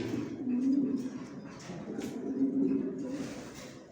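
Imported racing pigeons from the Netherlands, China and Germany coo in a new loft, two low rolling coos about two seconds apart, close and moderately loud over a soft room rumble.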